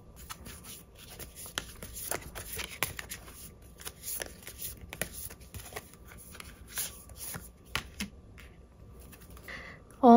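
Tarot cards are shuffled close by with a run of quick crisp riffles and soft slides, then a card is drawn, and a brief voice closes the run.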